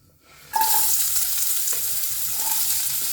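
Two large sliced onions hit hot oil in a pan with a bay leaf for Malabar prawn curry, bursting into a loud, steady sizzle that continues, with occasional stirring scrapes and no talking.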